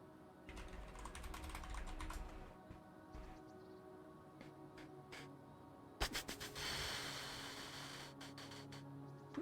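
Computer keyboard typing at a gaming playtest session, a quick irregular patter of clicks in bursts, close and fairly quiet, with a louder clatter of keystrokes midway.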